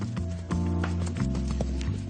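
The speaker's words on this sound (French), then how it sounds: "C'est au tour de cet autre poulain de montrer ses capacités de sauteur." A young horse's hooves clatter in quick, irregular thuds and clops as it jumps, close and fairly loud with no voices over them.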